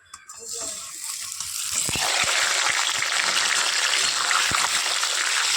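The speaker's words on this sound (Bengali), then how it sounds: "চলো এবার ডিম আলু একসাথে ভেজে নেব।" Eggs and potatoes fry together in a pan with bay leaf and dried chili, a quiet start that swells into a loud, constant sizzle with a few sharp crackles, close by and without speech.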